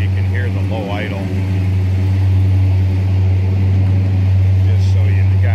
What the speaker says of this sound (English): I'm going to knock that down off the high idle so you can hear the low idle.